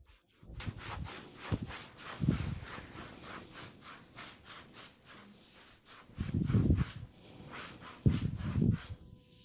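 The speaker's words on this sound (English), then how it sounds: "I gently rub it to help keep the line." A cloth rubs over a wooden cabinet freshly painted with chalk paint, making soft rhythmic back-and-forth swishing strokes that swell louder in a few spots, close and alone.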